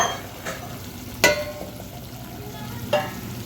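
Dry spice powders frying in oil in a pan for a dhaba-style chickpea curry, giving a soft steady sizzle with a few sharp stirring clinks and scrapes near the mic.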